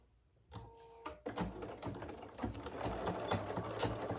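A sewing machine stitches Theratex fabric for a divided basket, starting with a couple of short bursts, then running into a steady fast mechanical whir and clatter, close and fairly quiet.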